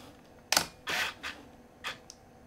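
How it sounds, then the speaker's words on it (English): A digital camera, one of a lot bought at auction, powering off each time its shutter button is pressed: a few short mechanical clicks and whirs spaced over two seconds, fairly close and alone with no talk. "Whenever I try to take a picture using the shutter button, the camera automatically turns off."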